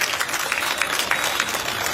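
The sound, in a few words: audience applause for a 95-year-old woman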